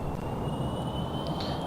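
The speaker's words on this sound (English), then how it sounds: "I'm just going to put a bit of thrust so I can see my jet engines work." Steady, continuous jet engine roar from Kerbal Space Program at low thrust, a broad even rumble with a faint high whine, fairly loud and alone without talk.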